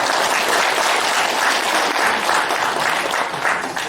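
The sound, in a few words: audience applause welcoming lecturer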